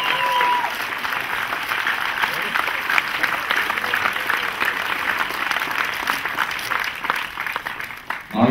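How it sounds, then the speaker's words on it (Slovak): A crowd at a Slovak film premiere for "Sídliskový sen" gives long, steady applause, the clapping holding dense and even before trailing off near the end. "Veľký potlesk pre moju mamu"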